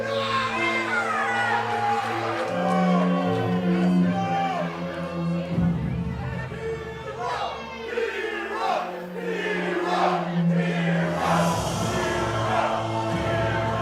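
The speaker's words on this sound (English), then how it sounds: "listen to this crowd ready to see their hero return" A wrestling crowd at a West Coast Pro event roars and chants as a wrestler returns, a loud sustained mass of cheering and shouts with rising swells, with a commentator's voice heard over it.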